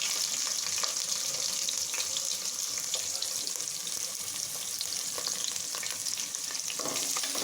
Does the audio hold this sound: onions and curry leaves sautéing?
yes